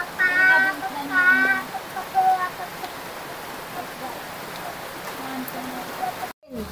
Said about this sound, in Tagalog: bumagsak na naman ang isang malakas na ulan